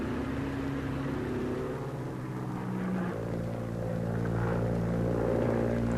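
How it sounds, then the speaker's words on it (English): A damaged Helldiver propeller plane, missing its tail hook, comes in to land on an aircraft carrier; its engine roars loud and steady, shifting lower in pitch midway through. "Another pilot brings down a damaged hell diver, which is minus its tail hook."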